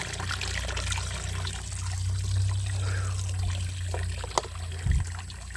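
A hose waters a vegetable garden in hot weather, a steady soft trickle and splash over a low constant hum, with a couple of brief knocks near the end.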